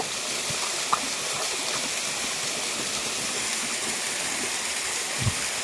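Steady rush of flowing water, like a stream or small waterfall, continuous and fairly loud throughout, with a couple of faint brief knocks and no talking.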